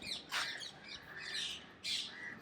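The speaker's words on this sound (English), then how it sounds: "Green parrots. You see them?" Green parrots on a wooded hill in Mumbai give three sharp, harsh squawks at a moderate distance, separated by short gaps, with no voices.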